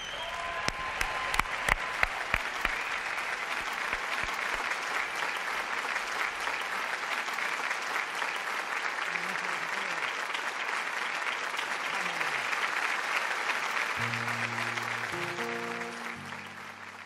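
Sustained applause from an awards gala audience fills the hall, dense and even throughout, with a few louder claps near the start and music entering faintly near the end.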